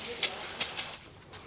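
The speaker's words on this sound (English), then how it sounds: "just using that same brake clean to clean a bunch of this oily residue off everything" Short bursts of brake cleaner sprayed onto oily residue on a Honda ATV, three or four quick close hissing puffs followed by quiet.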